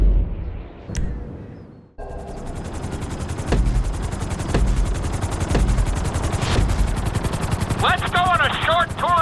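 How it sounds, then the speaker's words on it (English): Helicopter in GTA V flight school, a loud steady rotor chop running through with repeated gunfire-like bursts and booms layered over it, plus a short warbling alert tone near the end. "we'll see how well you handle the chopper"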